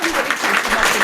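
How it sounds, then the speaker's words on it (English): An audience at a historical society meeting gives a short round of applause, a close burst of clapping with a voice mixed in. "A round of applause for Jean."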